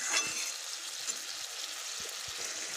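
A pan of mixed vegetable curry with spices sizzles and fries with a steady hiss, with a few soft knocks of stirring close by.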